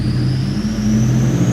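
A built 2006 Subaru WRX engine runs loud and steady on a dyno, a continuous mid-pitched drone with a whine that climbs slowly throughout, with no voices over it.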